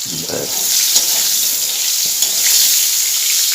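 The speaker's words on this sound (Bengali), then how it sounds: "মশলাটা একটু ভাজবো জিরা আদা লঙ্কা একটু বাটা আছে" Cumin, ginger and chili paste fry in hot oil with a steady, close, bright sizzle that holds evenly throughout, broken only by faint stirring knocks.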